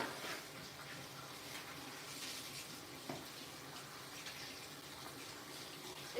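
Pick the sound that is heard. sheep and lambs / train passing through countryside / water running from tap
water running from tap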